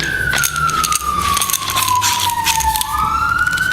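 A siren wails loudly, its pitch sliding steadily downward as the vehicle passes close by, then leveling off amid traffic noise.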